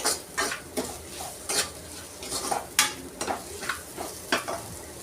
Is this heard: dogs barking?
no